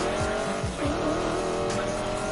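A Mustang drag car in the Need for Speed video game revs hard and loud with a tire squeal and skid, the engine roaring steadily through the whole burst.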